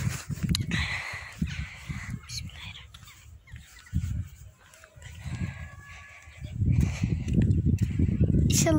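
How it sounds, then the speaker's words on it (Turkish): Crows caw in a video game, scattered and fairly faint behind game ambience, with a person talking loudly over much of the stretch. "Kargalar uçuyor."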